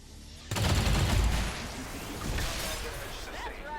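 A sudden loud blast from an explosion in XCOM 2 Long War of the Chosen, a sharp broadband burst followed by a rumbling, crackling tail and scattered debris-like noise that fades out over a few seconds.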